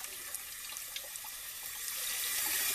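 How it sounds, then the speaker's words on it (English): Running tap water splashes steadily into a sink while a paint brush is rinsed, a continuous broadband hiss that swells slightly louder toward the end, close and alone with no voices. "rinse it down the sink this way"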